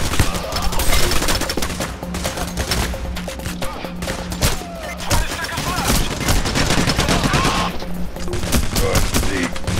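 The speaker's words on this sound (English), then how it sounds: "Hey, let's stop shooting the civilians, dude." Rapid bursts of automatic gunfire from the video game Payday The Heist, set in a bank heist on hard difficulty, crackle steadily throughout with dense overlapping shots and occasional louder volleys.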